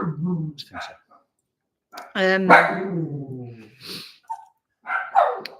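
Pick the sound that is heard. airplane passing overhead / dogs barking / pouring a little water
dogs barking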